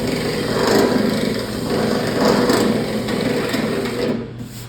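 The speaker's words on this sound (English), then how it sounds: "I'm gonna drill out this molding hole real quick" A steady, high-pitched motor whine runs continuously with slight surges in intensity, a power drill with a 3/8 bit boring out a molding hole in a car body close by.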